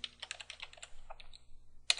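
Quiet, close keyboard clicking in a quick uneven patter, ending with one louder key press.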